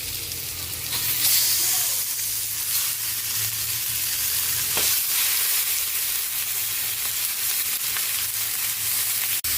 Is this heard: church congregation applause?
no